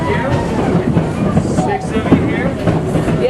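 A Durango mountain train rolling along its old mining tracks, a steady close rumble with faint rhythmic wheel clatter and passengers talking over it.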